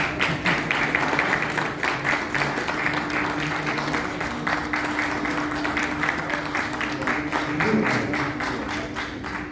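Audience applause at the Arts Council of Pakistan launch of Anwar Ahmad's book 'Kuch Khake Kuch Baatein': dense, steady clapping from a seated crowd fills the whole stretch, with a faint voice underneath.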